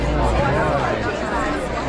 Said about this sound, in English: Looks like a good crowd.